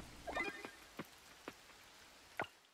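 Rain falls in the farming video game Coral Island, heard as faint soft patter with a few distinct, separated drip-like taps spaced over a couple of seconds, quiet and without talk.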